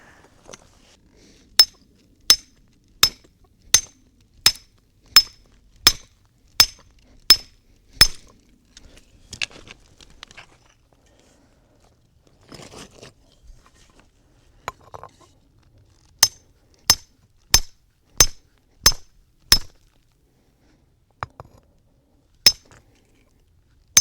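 A carbide-tipped hammer strikes rock during a hunt for almandine garnets, giving sharp metallic clinks in a steady run of about ten blows, then a quiet stretch with faint scraping, then another even run of strikes and a few scattered last hits.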